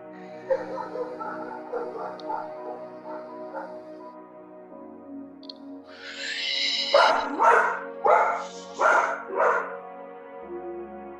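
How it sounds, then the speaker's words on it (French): A dog barks loudly and close in a run of five or six sharp barks, after an earlier stretch of softer whining or voice-like sounds. "elle a entendu un chien aboyer dans l'ordinateur et du coup elle est partie en aboyant"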